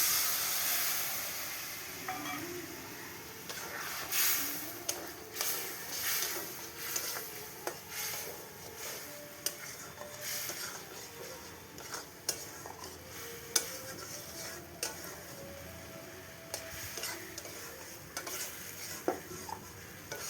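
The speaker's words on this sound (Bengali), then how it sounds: "এবার আমি শিল ধোয়া জলটা দিয়ে দিচ্ছি।" Crab curry sizzling in a pan as water from rinsing the grinding stone goes in, a faint, steady hiss of steam with scattered stirring scrapes and light clicks of utensil on pan.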